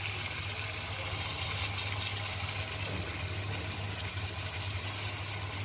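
Mustard water being poured into a cooking pan for a fish curry, a steady continuous watery pour that runs throughout at a moderate, even level with no talk.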